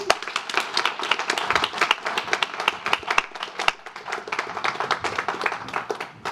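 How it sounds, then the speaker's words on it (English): Audience claps for a guest speaker at a music and brain-healing talk event, a moderate crowd producing crisp, distinct handclaps that keep a steady, lively pace throughout. "let's have a round of applause for Dr. Stephanie."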